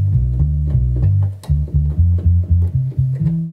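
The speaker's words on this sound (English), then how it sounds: "I already picked out my bass sound," MIDI bass patch played on a keyboard, a deep, loud, close synth bass line of short repeated notes stepping through a simple pattern, heard alone.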